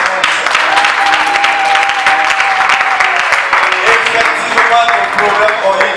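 A church congregation applauds with dense, continuous clapping that fills the space. It is loud and steady throughout, with voices faintly mixed in.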